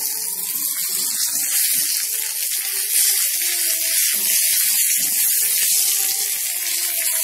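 Mustard seeds and curry leaves sizzle steadily in hot oil while tempering for raw banana dosa batter. A continuous bright hiss holds throughout, with a stepped melodic tone running underneath.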